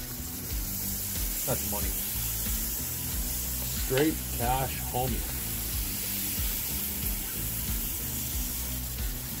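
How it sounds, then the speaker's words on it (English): Constant hissing sizzle of tandoori chicken on a hot grill, close and steady, with someone talking briefly over it. "Oh, hear that sizzle."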